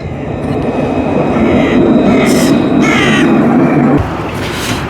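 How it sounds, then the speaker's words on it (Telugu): A line 6 metro tram arrives at a station in France, giving a loud, close rolling rumble with a few bright squeals. The rumble eases after about four seconds, and a crow caws in the background. "ఇది ఇంకో ట్రైన్ అన్నమాట, 6 మెట్రో ట్రామ్ 6 వచ్చేస్తుంది."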